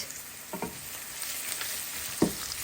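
Two cinnamon sticks and cardamom sizzle softly in hot oil for chicken biryani, a steady low frying hiss with a few faint stirring taps, close by.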